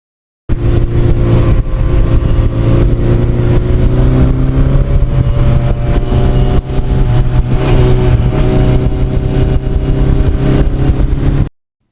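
A 1986 Honda NS250R two-stroke motorcycle is ridden along back roads near Bear Mountain, its engine a loud, close, sustained buzz with pitch shifts as it gears up and a brief dip mid-ride.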